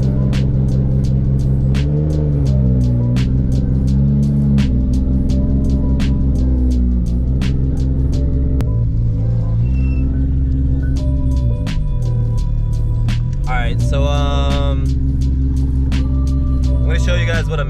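A Nissan R32 GTR engine with a misfire on boost drones loudly and close, its pitch shifting and stumbling unevenly under load, with talking over it partway through.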